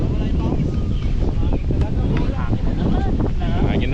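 Loud, steady wind rumbles across the microphone throughout, with people talking underneath.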